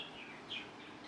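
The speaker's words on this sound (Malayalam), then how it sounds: "കിളി മിണ്ടാണ്ടിരി" A small bird chirping inside a room gives a few faint, high, short chirps over quiet room tone, with no talking.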